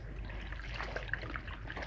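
Water trickles and sloshes as sand is rinsed out of food being washed, soft intermittent splashes and dribbles close by, faint and without voices.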